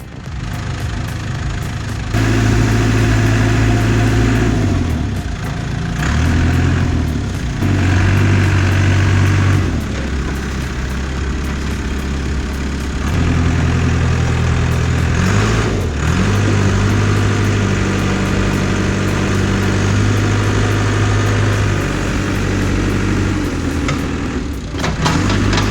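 Bobcat T300 compact tracked loader with a 6-way blade, its diesel engine idling and rumbling steadily, loud and close, with a few slight swells in revs over a long continuous stretch.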